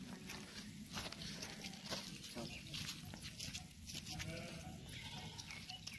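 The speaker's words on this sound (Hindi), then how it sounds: "देखो भेड़ भेड़ चल रही है इधर।" Sheep bleat close by in a rural Hindi-speaking setting, with overlapping animal calls and people talking throughout.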